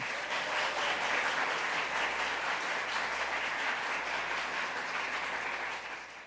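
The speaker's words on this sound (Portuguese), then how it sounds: "agora quem merece um aplauso é o professor Felipe" Sustained applause from a crowd, dense clapping at a steady level that tapers off slightly at the end.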